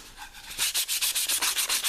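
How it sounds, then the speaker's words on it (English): Softwood tray sanded along the grain with glass paper: a quiet start, then steady rhythmic rasping strokes, about a dozen even back-and-forth passes, close and fairly loud with no talking. "we're going to be sanding along the grain"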